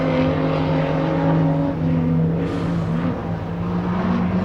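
Street stock race cars in a two-car battle for a final at Timmis Speedway, engines droning with steady harmonic tones that shift pitch as the cars pass, loud and close.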